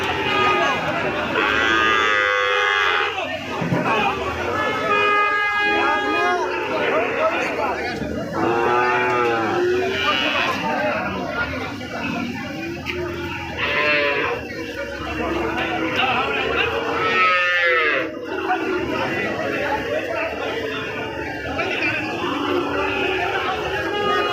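Cattle and young Indian bulls and calves low and moo repeatedly at a busy cattle market in Joypurhat, loud calls rising over steady crowd chatter and voices throughout.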